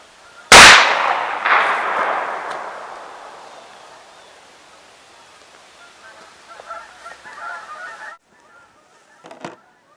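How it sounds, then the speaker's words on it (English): A True Flare bear deterrent flare fires with one sharp, loud bang, and the sound trails off in a long fading hiss. Quieter crackles and a few brief pops follow near the end. "Now let's try the flare."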